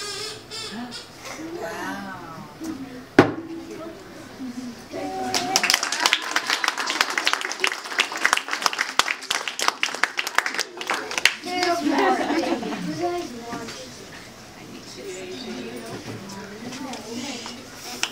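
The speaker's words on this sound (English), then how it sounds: "can we get another round of applause for Jamie?" Clapping rises for a young science fair presenter, a mid-clip burst of many hands that holds for several seconds before fading, with children and adults chattering before and after.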